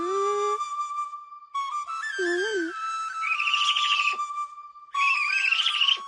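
A human whistle imitates a bird's call: bright, wavering tonal phrases with rising trills, repeated across several bursts at close range, with no talking.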